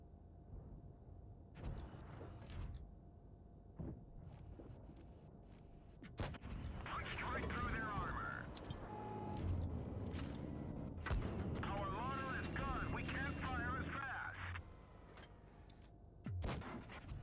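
Tank cannon fire in World of Tanks Blitz from a tier 9 heavy: a few heavy booming shots spaced seconds apart, under steady game noise and someone talking.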